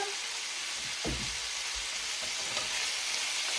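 Fajita filling sizzles steadily as it fries in oil in a pan, a continuous close crackle with a few soft stirring knocks and no talk.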